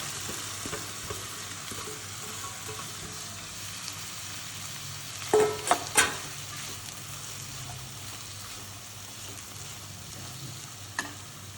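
Chopped onions and crushed ginger fry in a pan with a low, steady sizzle, broken by a few sharp spatula clinks and scrapes near the middle and one more toward the end, no one talking.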